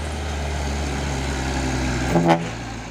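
An Isuzu Giga trailer truck rolls past on a road with a steady low engine drone, swelling briefly as it passes close, then easing away.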